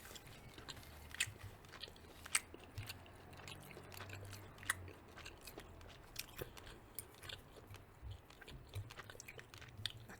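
Close, quiet eating of lemony chicken, with soft crunchy chewing and biting sounds repeating irregularly and no talking.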